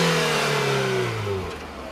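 A 2014 Ford Fiesta's 1.6 liter four-cylinder engine with a 5-speed manual revs steadily, a loud, close mid-pitched drone whose pitch falls slightly as the revs ease off.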